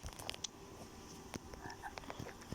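A frog croaks in a video game, several short, quiet croaks and clicks scattered irregularly over faint background game sounds.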